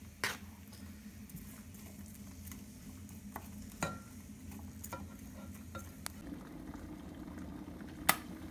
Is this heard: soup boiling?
yes